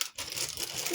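A clear plastic glove bag, like a food bag, crinkling and rustling close by in a brief, soft burst of papery crackles.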